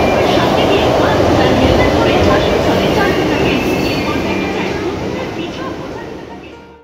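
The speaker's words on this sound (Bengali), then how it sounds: "11:27 মেট্রো চেপে আমরা রওনা দিলাম কুমোরটুলির উদ্দেশ্যে।" Metro train ride toward Kumartuli, with a loud, close rumble of the moving carriage and rolling wheel noise that holds steady, then fades away at the end.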